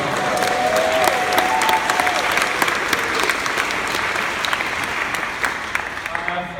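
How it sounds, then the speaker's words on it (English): A large crowd at a Maryland political rally breaks into sustained, loud applause, dense clapping mixed with cheers that carries on steadily for several seconds. "Let's give our Lieutenant Governor a round of applause."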